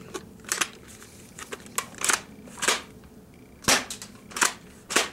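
Airsoft guns fired in a backyard, giving a scatter of sharp snapping pops, some alone and some in quick bursts of two or three, at close range with quiet gaps between.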